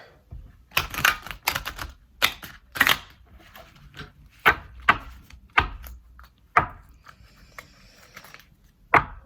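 Irregular crisp clicks and papery slaps of a deck of oracle cards being shuffled and tapped, close up, in bursts with short pauses between them.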